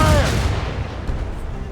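Ship cannons fire during a naval battle in the video game Assassin's Creed Rogue, a loud booming blast at the start that rolls off into a long rumbling decay, with a voice shouting under it.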